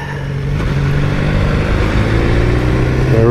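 A BMW S1000R motorcycle engine pulls in second gear up mountain hairpins beside a fjord, its revs rising steadily with a buzzing, climbing harmonic whine close to the microphone.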